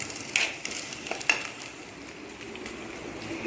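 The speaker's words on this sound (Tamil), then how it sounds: "அதில் மட்டனையும் இந்த சீரக சம்பா அரிசியையும் நம்ம ஒன்றா சேர்த்து அப்படியே கிளறிடுவோம்." Mutton and seeraga samba rice are stirred into masala in a pot, with soft sizzling under a few scraping clinks of a spoon against the pot, quiet and close.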